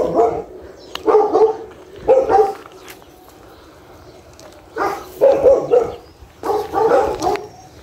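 A dog barks in several bursts of two or three woofs, fairly close, with short quiet gaps between them.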